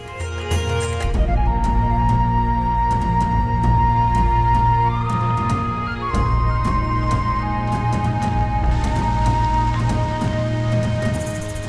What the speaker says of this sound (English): Here comes the rain as predicted.